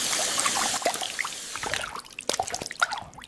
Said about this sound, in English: the faucet dripping goop onto the family cat